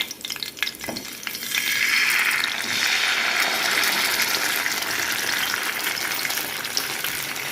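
Pomfret fish fries in hot coconut oil with curry leaves, a loud, steady, close sizzle that swells after a brief clatter at the start and holds on without any talk.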